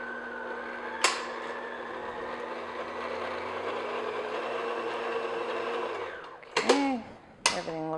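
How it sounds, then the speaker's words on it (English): An electric mixer running on low speed beats doughnut batter, a steady motor whir for about six seconds, then stopping, followed by short scraping clatters. "Just have your mixer on low speed and just beat that in."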